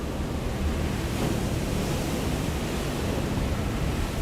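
A reservoir of water in the Hell Is Us game gives off a steady, broad rushing wash, even and unbroken, like a constant flowing roar.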